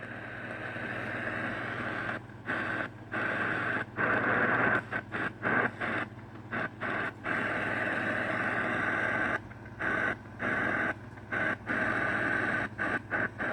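Shortwave static from a Prunus J-199 radio during a band scan under disturbed conditions: a continuous hiss and crackle with a low hum, repeatedly broken by short dropouts and bursts as the tuning moves across frequencies.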